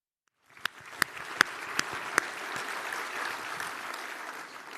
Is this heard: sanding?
no